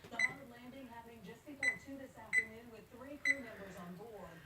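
A kitchen timer gets set for 20 minutes, with four sharp electronic beeps spaced about a second apart and a person talking quietly between them.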